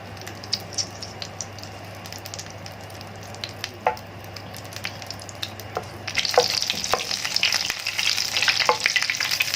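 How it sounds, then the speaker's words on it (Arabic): Ghee melts and sizzles in a pan as it is readied for Alexandrian-style liver. The hiss is steady and close, and it swells noticeably louder partway through, with occasional soft clicks. "دلوقتي احنا بنسيح السمنه، تسيح بس كده شويه"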